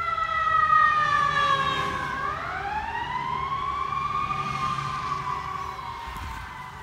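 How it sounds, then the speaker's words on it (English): A fire truck siren wails past outdoors near a rural property, its tone sweeping and dipping as it goes by, then continuing loud and steady as it moves away, alone without talk. "I've heard sirens for about the last minute or two"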